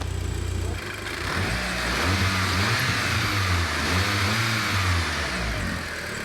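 A rebuilt VW Golf R engine runs close by, first idling with a low steady rumble, then briefly revving and settling into an even, smooth hum with no talk.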